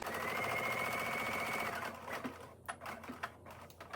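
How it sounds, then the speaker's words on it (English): Sewing machine top stitching along a fabric edge on a pair of pants, a steady close whirring run for about two seconds, then slowing into short uneven bursts and clicks as it back stitches. "you're just going to top stitch this right along the edge, making sure to back stitch"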